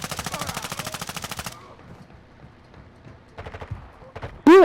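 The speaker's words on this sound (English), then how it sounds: "I'm taking effective fire" Rapid automatic gunfire in Call of Duty, a fast machine-gun burst followed by quieter background game sounds and short volleys of shots, ending with a sudden loud electronic tone.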